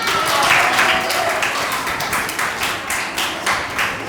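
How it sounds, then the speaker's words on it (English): An audience at a lactation management training session at a hospital claps together, giving a steady patter of fairly loud applause that lasts about four seconds with little else heard. "Yeah, please clap."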